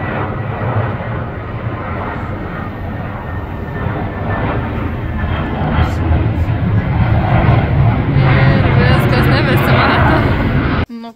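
A passenger airplane's engines roar steadily and grow louder as it comes in to land at Gibraltar airport, heard from nearby with people chatting over it.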